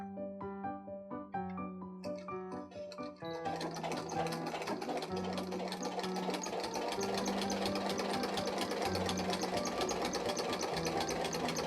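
A sewing machine fitted with a sharp-pointed jeans needle stitches fabric for a water-resistant picnic blanket, starting with a few short stop-start bursts of rapid needle clatter, then running as a loud, continuous, fast mechanical hum and tapping, with no talking.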